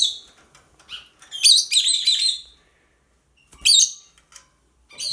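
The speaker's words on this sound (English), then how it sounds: "Well, let's wake up the other two birds." Pet lovebirds give bright, rapid chirps and squawky tweets in a few close bursts separated by quiet pauses, loud and near with no talking.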